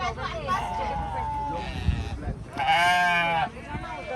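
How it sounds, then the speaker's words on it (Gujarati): Sheep in a New Zealand field bleat near the listener, with several long wavering calls overlapping one another, amid light background chatter and outdoor noise. "આ બધા ઘેટા છે."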